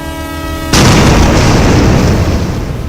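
A loud, sudden rushing roar cuts in as a train passes an unmanned railway crossing, replacing a steady tonal hum and continuing as a dense, close, sustained rumble.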